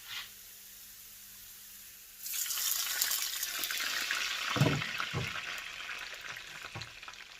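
Water poured into a pan of home-style Thai fried rice, a sudden loud hissing sizzle after a quiet start, settling into bubbling with a few low knocks from stirring.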